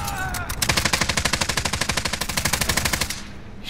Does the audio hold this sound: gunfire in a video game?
yes